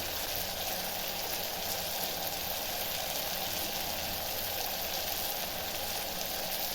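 Garlic chutney sizzles in a pan with potatoes and cluster beans, an even, dense frying hiss that carries unbroken and close throughout with no talking.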